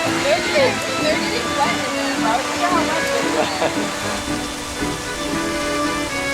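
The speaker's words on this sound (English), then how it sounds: "It just kept raining and raining, and the next thing you know, it's flooding." Heavy rain pours down at CocoCay in the Bahamas, a dense, steady wash of water splashing and drumming close by, with people talking over it.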